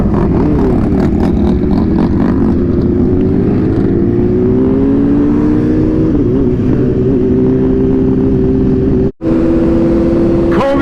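A large group ride of many sport motorcycles, engines droning loud and close with rising revs and shifting pitch as bikes pull away, a dense continuous roar with a brief cutout near the end.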